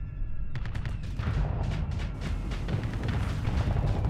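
Missiles and plasma weapons fire in the space combat game Starsector, as a dense, loud barrage of rapid overlapping blasts and booms rolling over a constant low rumble.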